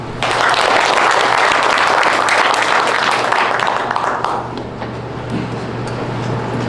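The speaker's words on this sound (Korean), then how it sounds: "격려의 박수 부탁드립니다." Audience at a Korean county candidates' meeting gives loud, dense applause of encouragement that fills the room, then fades to a softer patter over a steady background hum.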